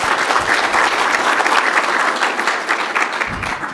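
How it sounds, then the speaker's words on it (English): Sustained audience applause at a legal-sector codes summit, dense steady clapping from a full room lasting the whole stretch, loud and close. "Please give her a round of applause."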